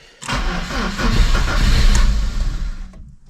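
A Lada car's engine cranks and catches, then runs loud and close for a few seconds before cutting off abruptly.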